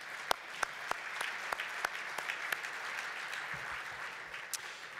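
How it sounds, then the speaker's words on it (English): Soft, distant applause from a conference keynote audience, a steady wash of clapping with a few sharper individual claps standing out, fairly faint throughout. "I just really want to give them a round of applause for all that they're doing."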